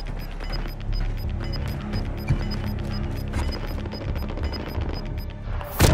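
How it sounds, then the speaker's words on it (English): Cluster strike explosions in Call of Duty Modern Warfare, a chaotic run of rapid thuds and cracks over a busy battlefield din with a repeating high electronic beep, ending in a sharp burst. "Cluster strike away."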